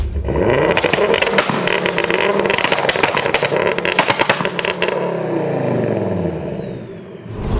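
A loud big-turbo 530 bhp four-wheel-drive Ford Focus ST engine revs hard and repeatedly, close up, with rising and falling roars, crackles and a whine settling at the end.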